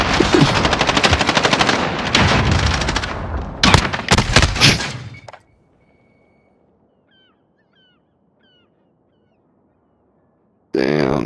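Rapid video-game machine-gun fire rattles loudly for about five seconds, ending in a few separate heavy shots. A long near-silence with faint birdlike calls follows, then a final loud burst of fire cuts in.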